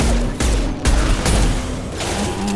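Gunfire in Mass Effect 2, a loud, dense barrage of shots with several sharp bursts breaking through a constant roar of combat noise.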